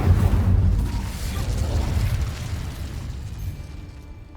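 A burst of flame from the Incendio fire spell in Hogwarts Legacy, erupting loudly with a deep whoosh at first and then rumbling and crackling as it slowly fades.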